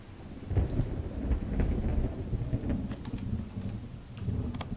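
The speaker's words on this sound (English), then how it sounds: "Oh, there's lightning, do you hear?" Thunder rumbles low and continuously through steady rain in the Legends of Aria video game, a sustained rolling storm sound with no talk.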